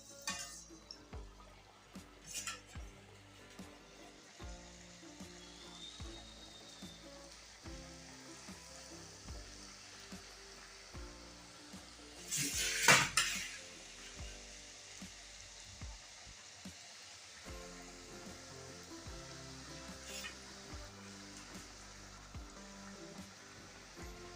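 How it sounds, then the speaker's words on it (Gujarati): Chakri, crisp rice-flour spirals with mint and spinach, frying in hot oil over a low flame, giving a steady, even sizzle and bubbling with a brief louder burst partway through. "આપણે આ રીતના તવેથાની મદદથી લઈ અને તેલમાં બધી મૂકી દઈશું"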